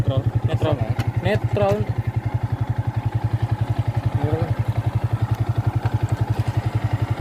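A Yamaha New Vixion motorcycle idles in neutral close by, its engine pulsing in a steady, even chug throughout while a person talks over the first few seconds.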